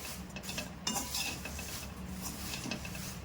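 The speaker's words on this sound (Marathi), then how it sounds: "मी सर्व पोहे भाजून घेत आहे" Thin poha being stirred and roasted in a small kadhai, with steady scraping of a spoon against the metal and occasional light clinks over a faint background sizzle, close and quiet.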